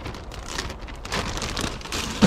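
Steady rain falls beside a river during trout fishing, a dense, even hiss of drops striking water and surfaces, close and continuous throughout with no talking.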